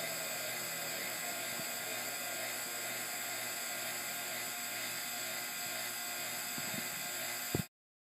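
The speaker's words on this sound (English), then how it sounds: "Shutting down the rotary field now." A rotary field plasma coupling machine hums with a steady, dense electrical whir and buzz, holding constant before abruptly cutting off near the end into silence.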